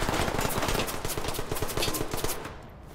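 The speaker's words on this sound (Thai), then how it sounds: "ขวายิงมาใช่ไหม" Rapid automatic gunfire in the tactical shooter Ready or Not, a dense loud burst of shots in quick rhythm lasting a few seconds before cutting off.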